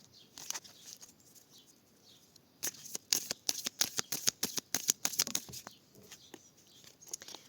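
Tarot cards are riffled and shuffled close by, with a few soft flicks followed by a rapid run of crisp card snaps, quiet overall and with no talking.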